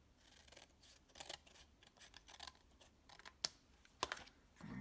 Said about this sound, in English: you want to flip this over, and you want to cut these pieces off